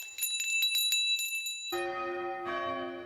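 Small bells ringing, first a quick run of bright tinkling strikes, then a lower, fuller bell tone that rings out and is struck again, clear and close with no voices.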